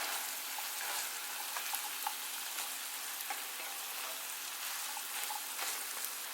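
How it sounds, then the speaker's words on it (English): Ground beef and pinto beans fry in a pan, giving a steady, dense sizzle with faint crackles and pops throughout. The sound is close and continuous, and no one speaks. "we've got the ground beef going, and then now I'm just gonna add the pinto beans in to that"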